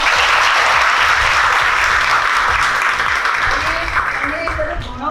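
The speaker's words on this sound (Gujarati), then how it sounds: "ચલો તાળી પાડો." Women at a Siyaram Foundation training centre clap together to welcome their facial-skills trainer: a dense, steady wash of applause close by, with voices mingling in and the clapping easing slightly toward the end.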